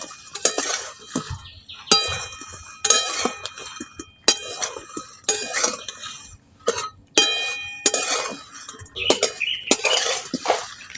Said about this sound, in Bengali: এখন পোস্তটা হালকা ভাজা হয়ে গেছে এগুলো এবার দিয়ে দিচ্ছি ভালো করে মিশিয়ে নেব